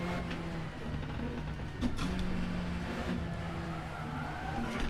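A race car in a racing video game slides through a corner, tires squealing over a steady engine drone, the squeal loudest midway through the run.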